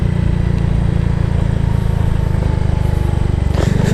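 Single motorcycle engine droning steadily while riding through Mauban, Pangasinan, a loud, constant low rumble with wind noise throughout and no break in the motor sound.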